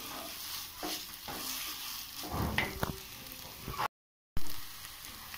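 Grated coconut, already cooked nearly dry, fries in a pan while a spoon stirs it, giving a soft continuous sizzle broken by scraping and tapping strokes at close range, with a brief silent gap.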